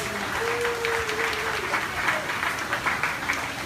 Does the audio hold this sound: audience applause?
yes